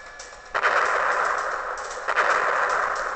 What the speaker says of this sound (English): I'm just shooting them a couple times